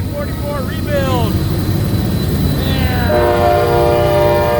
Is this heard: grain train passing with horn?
yes